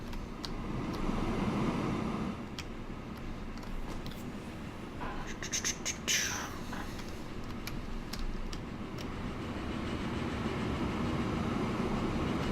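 A freight train carrying planks rolls along in the Transport Fever video game, a soft steady rumble with faint clicking of wheels and a brief brighter burst midway, quiet and continuous, no talk.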